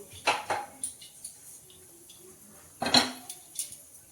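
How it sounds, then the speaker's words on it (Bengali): A metal kadai is set down on the stove before cooking mutton, making a couple of clanks near the start and a louder metallic clatter about three seconds in, with quiet pauses between. "মাংসটা বানানোর জন্য কড়াই বসিয়ে দেব।"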